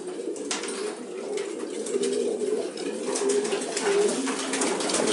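Racing pigeons back from a 350 km race flight coo steadily in low, throaty rolls, several birds overlapping nearby with faint rustling and occasional wing flutters.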